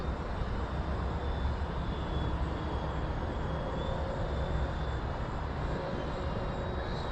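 A Freewing T-45 Goshawk 90mm electric ducted-fan RC jet flies overhead with a steady, loud turbine-like whine and rush, droning without pause.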